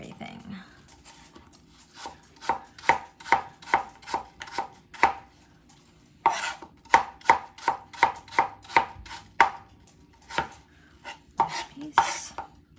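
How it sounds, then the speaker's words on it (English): A knife slices apples thinly on a cutting board. The crisp, evenly spaced chops come in quick runs close by, with a short break partway through and faint talk now and then. "it's easy to just sit here and thinly slice"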